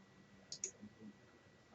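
A single mouse click selects a bar on a spreadsheet chart, with a second click just after it. Both are brief, faint taps near the microphone over quiet room noise, and another tap comes at the very end.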